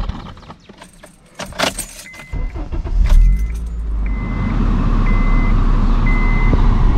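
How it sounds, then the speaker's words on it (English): A Honda Accord setting off on a test drive: keys jangle, then the engine catches and settles into a steady, close idle rumble, with a few short electronic beeps. "Now it's time to test drive the not so fast and furious Honda Accord."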